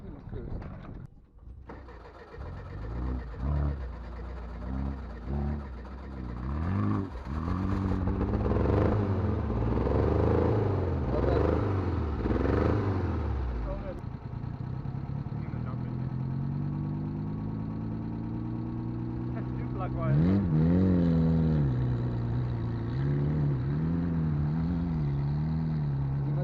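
A 4x4 overlanding vehicle off-road: the engine catches and then revs hard in rising and falling surges, settles into a steady drone, and revs again near the end, with people talking over it.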